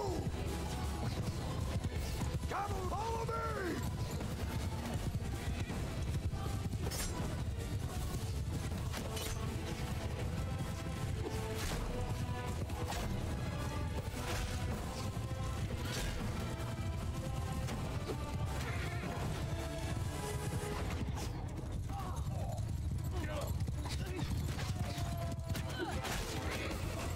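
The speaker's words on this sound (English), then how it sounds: "Horsemen, move! Cavalry, follow me!" Cavalry horses gallop en masse in Mount and Blade Bannerlord, a dense, continuous battle din of hooves and clatter with a few brief cries over a steady loud rumble.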